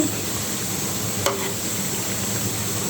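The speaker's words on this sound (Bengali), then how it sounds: "এই যে বাকি তালের বড়াগুলো আমি ভেজে নিচ্ছি" Palm fruit fritters (taler bora) frying in oil make a constant, even hiss of bubbling fat, with one brief clink partway through and no talking.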